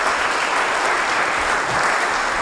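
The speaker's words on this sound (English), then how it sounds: "A round of applause again for Senator Lee Wright for helping put this" Steady, dense applause from an audience at an Oklahoma lake development summit, loud and continuous throughout with no speech over it.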